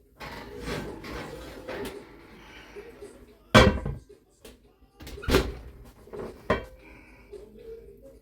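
An oven door on a cast iron skillet with butter thuds shut in a few loud, close knocks and clatters amid kitchen handling noises, with no talking.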